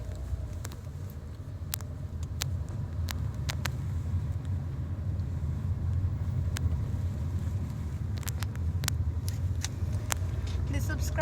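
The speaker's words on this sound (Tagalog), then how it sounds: "lumiko na po ang sasakyan" A vehicle drives along after a turn, its engine a steady low rumble heard from inside, with occasional clicks and small knocks over the top.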